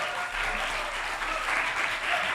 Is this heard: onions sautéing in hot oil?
no